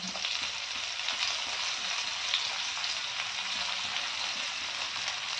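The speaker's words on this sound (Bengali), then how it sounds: "মিডিয়ামে ভেজে নেবো পেঁয়াজগুলো" Chopped onions fry in oil over medium heat, a steady close sizzle that runs evenly and alone throughout.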